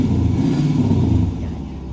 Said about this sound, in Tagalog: Switch ko lang yung valve para makahinga na yung makina na maayos.